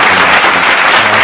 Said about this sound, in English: Let's give BroPo another round of applause